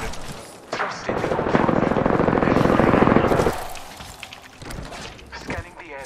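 Rapid automatic gunfire in a video game, a loud sustained burst in the middle with scattered shots before and after, under a speaking voice.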